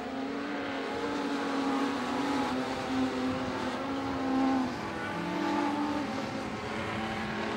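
Race cars on the final lap of an A-main event, engines droning at a distance in overlapping whining tones that rise and fall as the field circles, fairly faint and continuous.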